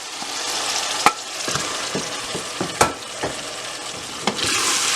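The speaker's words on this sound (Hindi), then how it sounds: "इसके अंदर हम राइट अवे जो है मटर डाल रहे हैं।" Peas tipped into a pan of hot, nearly finished masala for matar pulao, giving a steady close frying sizzle with a few sharp stirring clacks and a louder hiss near the end.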